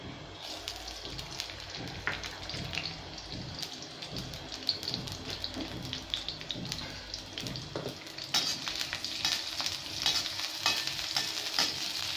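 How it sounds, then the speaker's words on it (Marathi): Green chillies fry in hot oil in an iron pan, a steady close sizzle broken by scraping stirs that grows louder and crackles more sharply toward the end. "आता आपलं हे तेल तापलेलं आहे, त्याच्यात आपण मिरच्या घालून घेणार आहोत."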